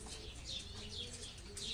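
A pet bird coos softly in a repeated, rhythmic pattern of faint, low calls over a steady background hiss.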